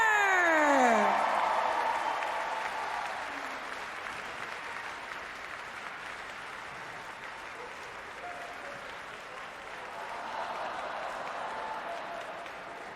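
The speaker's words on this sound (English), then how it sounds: "let's give a big round of applause to Matt Fraser, Cole Sager, Pat Vellner" Sustained crowd applause and cheering fill a fitness competition arena at the 2019 Rogue Invitational. The clapping is loudest at the start, under an announcer's voice, then settles into a steady roar.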